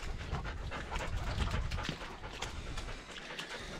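A cold, wet show dog pants heavily on a farm, quick rough breaths close by with some shuffling and movement, growing louder in the middle and then easing off.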